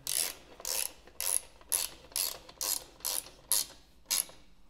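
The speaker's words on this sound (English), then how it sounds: "now it's holding in place and you can tighten." Ratchet tightening a rear luggage rack bolt on a KTM motorcycle: a close, crisp series of about nine evenly spaced clicking bursts, each a short pawl rattle, steady in rhythm and fairly quiet.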